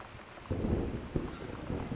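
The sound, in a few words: thunder in the video game Gone Home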